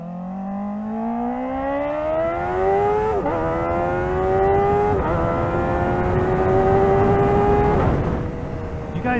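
A Kawasaki ZX-4RR motorcycle engine climbs hard through the gears, its rising whine interrupted by three quick shifts, loud and close throughout, reaching highway speed.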